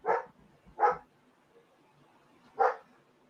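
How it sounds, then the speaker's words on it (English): Three sharp dog barks, two close together and one after a pause, at moderate distance against a quiet background. "No one, but I don't know what they're barking at."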